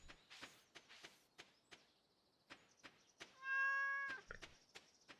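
A cat meows once in the farming video game Stardew Valley, a clear drawn-out call set against sparse soft clicks and thumps from the game.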